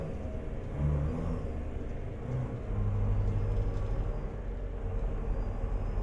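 Truck engine revving in American Truck Simulator, a low rumbling drone that swells in a couple of short revs before settling into a steady roar.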